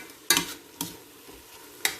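Lean pork and spaghetti fry uncovered in a pan, a soft sizzle broken by three sharp scrapes of stirring spaced through the moment.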